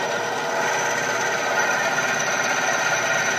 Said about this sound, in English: I'm gonna hit the power now, and we're gonna see how it works.